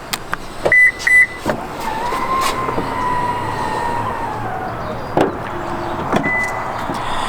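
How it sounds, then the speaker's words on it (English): Power rear hatch of a 2024 Subaru Forester Limited closing and locking: a short beeping chime, a steady motor whir while the hatch lowers, then a firm latch thunk with a couple of later clicks and a brief beep. "this time we're actually going to close and lock the hatch"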